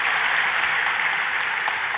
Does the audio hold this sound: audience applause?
yes